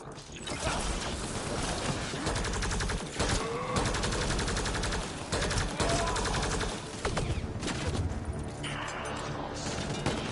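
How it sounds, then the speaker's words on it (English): Rapid gunfire in the Mass Effect Andromeda video game, a dense, loud, sustained barrage of shots with mechanical clatter and brief pauses between volleys. "Shooting as fast as I can!"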